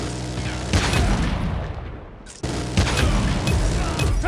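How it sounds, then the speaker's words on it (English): Sentry gun firing in a shooter video game, dense rapid automatic bursts with booms, a brief fade around midway, then loud continuous fire resumes. "Sentry gun ready for deployment."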